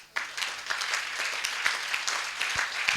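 A crowd claps together in a dense, even burst of applause that starts suddenly and holds at full strength for a few seconds.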